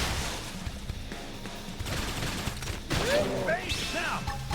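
Gunfire from the video game Xenoblade Chronicles X crackles in rapid bursts amid chaotic battle effects and swooping electronic tones, with voices mixed into the din.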